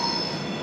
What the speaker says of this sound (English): There's been a train just gone past.